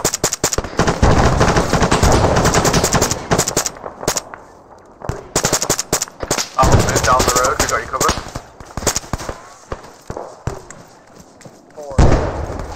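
Automatic and single-shot gunfire in the ArmA 3 military shooter, loud close bursts of rapid shots with sharp cracks and a brief lull before firing resumes, while several voices talk over the fighting.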